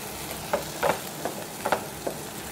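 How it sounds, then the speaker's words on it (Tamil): Potatoes frying in a pan, a constant close sizzle with several light scraping stirs of a spatula spread over a couple of seconds. "அதனால தான் கிளறி விட்டுக்கோங்க அப்பப்போ"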